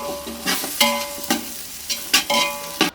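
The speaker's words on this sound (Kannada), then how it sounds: "ಈಗ ನೀರುಳ್ಳಿ ಎಲ್ಲ ಬಿಸಿ ಬಿಸಿ ಹಾಕಿಟ್ಟು ಫ್ರೈ ಆಗಬೇಕು ಚೆಂದಾಗಿ." Onions frying in a hot pan for a home-cooked kori sukka, with steady sizzling broken by several bursts of stirring and scraping, close and fairly loud with no talking.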